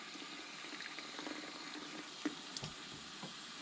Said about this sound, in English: Put it on hot water.